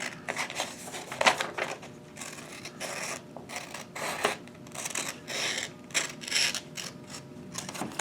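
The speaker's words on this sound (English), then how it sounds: "now we're going to use the scissors, and we're going to cut" Scissors cutting along the edge of folded paper: a close series of small crisp snips and rustles in an irregular rhythm, fairly quiet.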